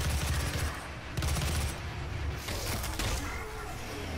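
Rapid gunfire from the game Doom, dense and continuous, with bursts that swell and ease over a steady low rumble of game noise, and no talking heard.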